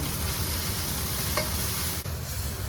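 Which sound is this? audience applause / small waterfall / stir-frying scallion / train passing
stir-frying scallion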